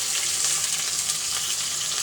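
Potatoes frying in a spice paste with green chillies, a steady close hiss of sizzling oil with no talk.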